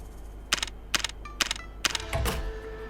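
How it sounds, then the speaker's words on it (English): In the video game Tears of Themis, a coded lock's machinery works in four quick mechanical clicking bursts, followed by a dull, low thud as the door begins to open, fairly quiet with no talk. "You can hear machinery moving from behind the coded lock. After a dull thud, the door slowly opens."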